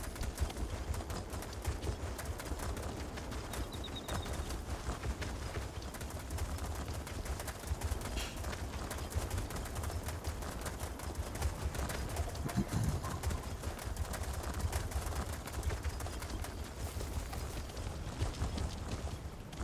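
Horse hooves in The Elder Scrolls Online clop at a steady, even pace throughout, blended with soft ambient bird coos and a constant background wash.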